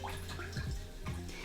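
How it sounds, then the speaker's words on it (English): An acrylic paintbrush being rinsed in a water pot during sunset canvas painting, giving close, continuous sloshing and dripping water sounds for a moment with no talking. "I'm going to wash off my brush completely."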